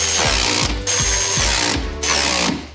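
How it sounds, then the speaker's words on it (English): A ratchet tightening damper mount bolts on a car, rapid repeated clicking bursts in close, loud strokes with brief pauses between each pull. "tighten the bolts up at the bottom and the top mount bolts as well"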